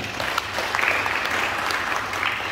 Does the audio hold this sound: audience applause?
yes